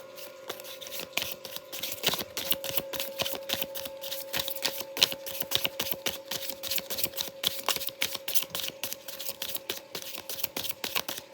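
Tarot cards being shuffled over and over, a rapid rustling riffle of soft snaps repeating steadily, close and fairly quiet, with a faint hum underneath.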